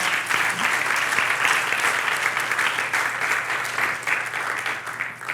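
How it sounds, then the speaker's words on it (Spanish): A church congregation applauding during a Spanish-language sermon, a thick continuous roar of many hands clapping that stays loud and even throughout. "den un aplauso al Señor"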